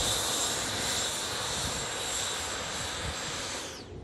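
Freewing J10 90mm RC electric ducted-fan jet landing with reverse thrust, a loud steady high-pitched whine and rushing roar held close, then tapering off at the very end.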